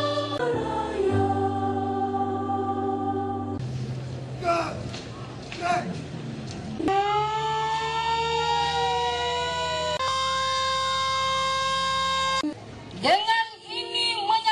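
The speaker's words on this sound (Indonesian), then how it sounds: "Detik-detik proklamasi diperingati dengan membunyikan sirine selama 1 menit" A loud siren sounds continuously for an Indonesian Independence Day proclamation commemoration, its steady wailing tones shifting and sliding in pitch over several seconds, with brief noisy breaks in between.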